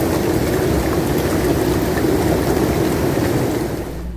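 Rain falls steadily on a rainy day at Sugar Creek Campground, an even close hiss of drops that stays level throughout and fades slightly at the very end.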